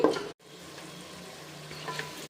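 Yogurt frying with masala on a low flame for mutton pulao gives a steady soft sizzle, with a brief stir-scrape at the start and a short silent break before the gentle crackle resumes; no talking.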